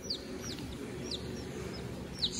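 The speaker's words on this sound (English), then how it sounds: "Check on our brooding chickens." Faint, scattered chirpy clucks from brooding chickens over a steady low background hum, a few brief calls spread across a couple of seconds.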